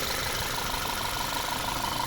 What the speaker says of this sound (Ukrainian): Ну, Ось так працює двигун.